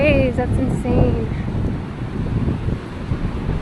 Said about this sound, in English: Look at them waves, that's insane.